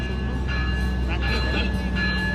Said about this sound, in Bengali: এটা কুড়ির ট্রেনটা ছেড়ে দিল, আর কিরম ঢং ঢং করে ঘন্টা বাজছে দেখো।